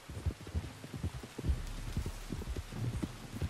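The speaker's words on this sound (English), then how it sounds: "You were right about the damn rain." Steady rain falls in Red Dead Redemption 2 with a constant wash of hiss, while low irregular thuds like hoofbeats or footsteps thump close underneath, with no talk.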